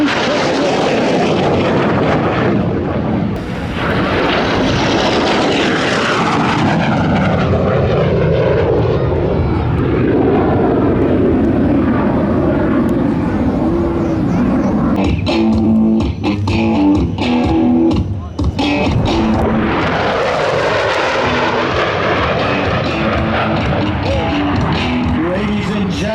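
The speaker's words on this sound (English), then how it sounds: "demonstrating the tight turning capability of the MiG-17" A MiG-17 jet fighter flies tight turns at an airshow, its engine roar rising and falling in sweeping passes, loud throughout with a voice partly under it.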